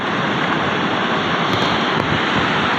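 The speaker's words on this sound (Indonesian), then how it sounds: "Ombak yang begitu tinggi dan bergelombang bersuara kencang," Steady roar of high ocean surf on a white-sand beach at Sancang Forest, Garut, with waves washing in continuously, loud and close, wind blowing over the microphone throughout.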